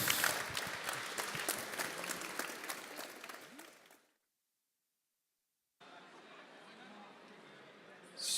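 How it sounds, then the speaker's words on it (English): Spectators at a CPR competition applaud loudly for about four seconds, the clapping fading into a sudden silence before quieter room noise and a faint swell of sound return. "Thanks very much. Applause."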